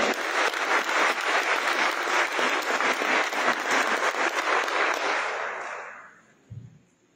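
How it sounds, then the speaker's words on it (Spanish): Loud, sustained applause from the audience at a municipal council swearing-in ceremony, dense clapping that fades away over the last seconds before a brief low thump. "Fuerte el aplauso"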